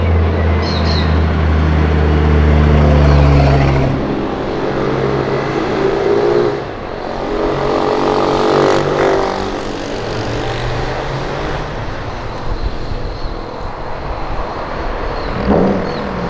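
A motorcycle and a Honda Civic Si bouncing off the rev limiter on a street, loud sustained engine roar with rapid stuttering cuts, pitch surging and dropping over several seconds, no talking.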